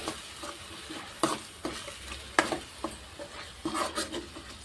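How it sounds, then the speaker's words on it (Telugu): Tomato paste being stirred in a frying pan for fish curry, a soft steady sizzle with repeated scraping strokes of a spoon against the pan, close and fairly quiet, no talk. "ఒకసారి కలిపేసుకుందాం."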